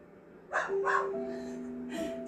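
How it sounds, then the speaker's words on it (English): Adult dogs in a home with young puppies let out a few loud barks in quick bursts, with short pauses and a higher whining tone in between. "sometimes everybody's a little bit noisy, all my adult dogs"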